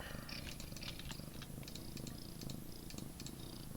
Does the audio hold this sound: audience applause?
no